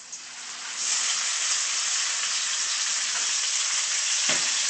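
Ground pork sizzles loudly and steadily in a hot pan, a dense broadband hiss that swells after the first second and holds without a break.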